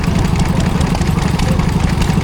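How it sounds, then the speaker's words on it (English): A Lister D stationary engine idles at a country show, with a rapid, regular low thumping that stays loud and even across the short stretch. "Here we see a Lister D"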